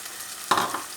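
Canned tomatoes splash into a hot pan of sautéing peas, setting off a sudden loud sizzle and hiss halfway through that fades gradually, after steady low frying.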